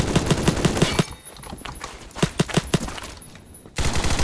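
Machine gun firing in the Phantom Forces video game, rapid bursts of sharp shots in quick rhythm, a pause with scattered distant fire, then another loud burst near the end.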